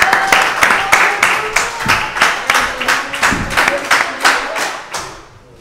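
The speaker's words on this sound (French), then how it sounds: "Allez, Alexandre, on applaudit Alexandre, s'il vous plaît." A small audience claps for Alexandre, a French and Spanish 250cc motorcycle speed champion, at a youth club: a few hands beating in a loose, quick rhythm with thumps, fading out at the end.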